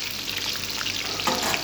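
Onions hit browned garlic in a hot pan, giving a steady, close sizzle with light crackling spatters throughout a short burst of frying.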